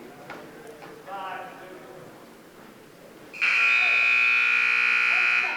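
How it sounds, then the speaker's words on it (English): At a high school varsity wrestling match, a loud, steady electronic buzzer blares to end the second bout, cutting in sharply after crowd noise and a commentator's voice. "And there's the buzzer for the end of the second bout"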